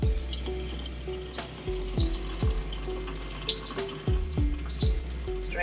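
Rinse water drains from a pot of goat meat being prepared for Haitian curry goat, pouring and splashing in bursts, with repeated clunks of the pot, close and fairly quiet.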